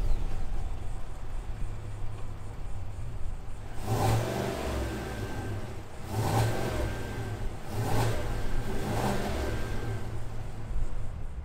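A 2021 Chevrolet Tahoe High Country's 6.2 liter V8 with a custom exhaust revs at idle, giving about four loud, evenly spaced throttle blips over a steady low rumble.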